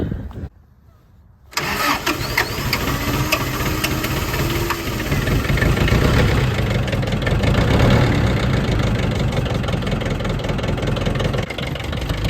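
A tractor fitted with a swapped-in 351 Windsor V8 cold-starts after a brief crank, catches and settles into a loud, rough, slightly knocking idle close by, with a person talking faintly at the start.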